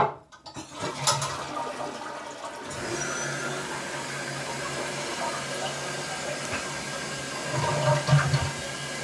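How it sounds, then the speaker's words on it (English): A toilet flushes in a home bathroom, a loud rushing surge of water that settles into a steady, sustained gurgle and refill lasting several seconds, close to the listener. "Let me give y'all a courtesy flush."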